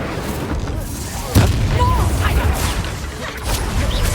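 Confringo and Bombarda spell explosions in the video game Hogwarts Legacy: a sudden loud boom followed by rumbling blasts and crackling debris, with shouted voices mixed in among the impacts.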